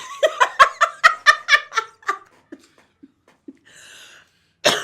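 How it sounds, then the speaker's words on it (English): Adult coughing fit during studio talk, a rapid run of about a dozen harsh coughs that taper into short gasps and breaths before a final sharp burst, close and loud. "You made me cough"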